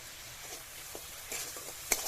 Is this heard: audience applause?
no